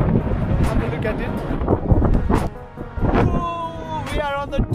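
Strong wind buffets the microphone in gusty rumbles on the foggy summit of Snowdon in Wales while people talk over it.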